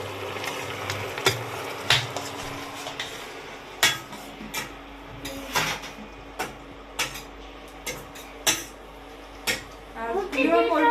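Broccoli being cooked in a pan at home, with clanks of a utensil against the pan, sharp taps and scrapes spaced irregularly over a low background, while people talk throughout.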